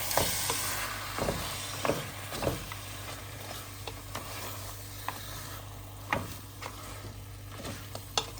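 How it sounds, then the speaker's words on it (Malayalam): Mutton curry being stirred in a pot, with a low steady sizzle under repeated scraping strokes of a spoon at an irregular rhythm, close and moderately quiet. "നമുക്കൊന്ന് ഒന്നുകൂടെ ഒന്ന് ഇളക്കി എടുക്കാം"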